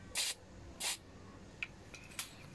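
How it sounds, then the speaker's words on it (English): Carburetor cleaner sprayed into a Ryobi string trimmer carburetor during a rebuild: two short hissing spray bursts, followed by a few faint, brief clicks, close and fairly quiet. "the carburetor cleaner is going at the back instead of going through the hole"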